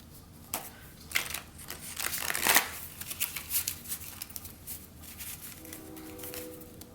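A deck of cards riffled and shuffled nearby in quick rustling bursts, fading to a quiet moment at the end.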